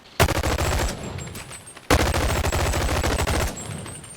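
Bursts of M4 rifle fire in a VR shooting game, two long rapid automatic volleys separated by a short pause, loud and close with no talking.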